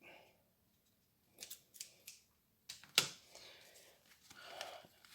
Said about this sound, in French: Et j'ai pas pris le meilleur des ciseaux.